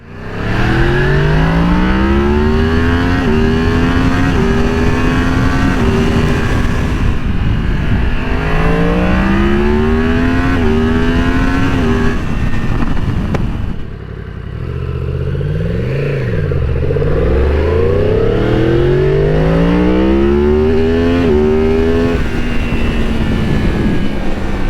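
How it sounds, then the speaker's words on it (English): A 2022 Yamaha MT-10 roughly 1000cc naked motorcycle accelerating hard, the intake roar rising through repeated gear pulls, loud and close from the rider's position, with a brief lull before it revs up again. "Yamaha has specifically designed vents up top that let you hear the intake noise better"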